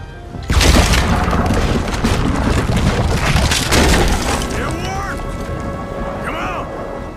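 A heavy cannon blast booms in Red Dead Redemption 2, a loud low burst that stays dense with crashing, splintering wreckage and rumble, while voices call out over it.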